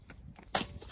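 A rimfire bullet strikes a distant steel target at an outdoor precision rifle match, giving one sharp, brief crack-like hit over faint background noise.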